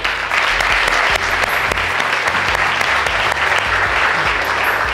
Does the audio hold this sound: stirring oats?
no